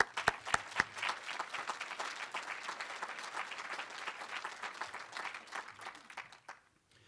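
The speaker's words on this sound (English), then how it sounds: "they deserve a great big round of applause" Conference convocation crowd at the CAA annual gathering breaks into sustained, even applause for sponsors, a dense wash of many hands at moderate distance that fades out at the end, after a few sharp near claps.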